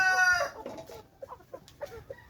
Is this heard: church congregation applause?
no